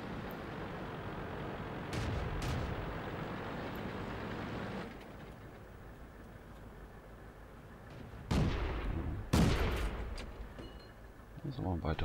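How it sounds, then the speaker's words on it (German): Tank cannon shots in the video game World of Tanks, a sharp loud blast around eight seconds and another near nine and a half, over steady engine and battle rumble. "Das war ein weiter Schuss."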